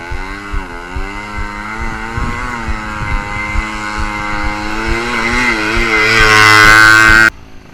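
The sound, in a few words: 2-stroke scooter engine labouring up hills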